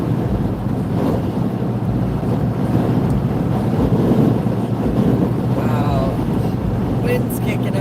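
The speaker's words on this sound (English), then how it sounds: "Wind's kicking up again" Steady rushing wind buffeting the microphone from a moving car on a highway, continuous and loud, with someone talking over it near the end.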